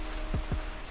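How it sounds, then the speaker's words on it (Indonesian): Heavy rain starting to pour, a dense, steady hiss of falling water with two quick low thumps partway through. "hujan udah mulai turun dan udah mulai deres"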